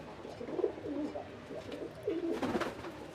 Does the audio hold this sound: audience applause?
no